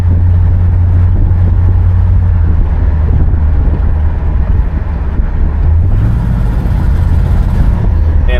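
1967 Pontiac Bonneville engine heard from inside while driving and accelerating, a loud continuous low rumble with road noise that rises slightly in pitch toward the end.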